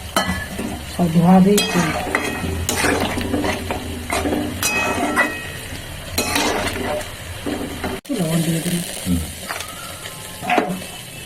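A dish being sautéed and stirred in a pan during home cooking, with clinks and scrapes of a metal spoon against the pan over a low sizzle, close by, under intermittent conversation between people.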